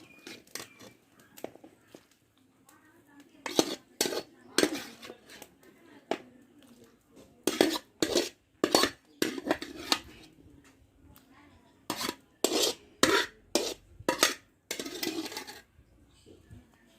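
Citron pieces stirred into simmering kuzhambu in a pot: a spoon knocks and scrapes against the vessel in quick, irregular bursts of close clinks, with short pauses between strokes.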